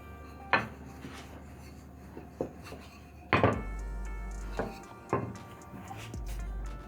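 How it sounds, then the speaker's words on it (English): A metal skimmer knocking against a pan while separating mahamri frying in oil, a few sharp clinks and scrapes spaced irregularly over a steady low sizzle, close and moderately loud. "Then separate the mahamris using your skimmer"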